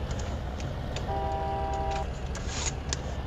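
A vehicle horn in a farming video game gives one steady, harmonic-rich honk lasting about a second. It sounds over a constant rumbling engine with light clicks.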